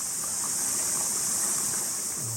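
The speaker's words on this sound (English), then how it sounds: "This is the stream from the waterfall." A stream running down from a waterfall near Rere Bay gives a steady, even hiss of flowing water, constant and moderately close with no voices over it.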